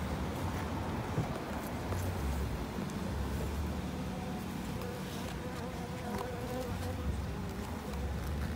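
Honeybees during a cut-out hive removal two stories high, a dense continuous buzzing swarm close by at steady low level, with faint background sounds.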